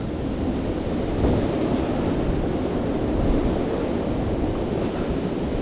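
Wind buffeting outdoors on a countryside walk near Whittle Dene, a loud, continuous broadband rumble and roar that swells slightly in gusts, with no voices.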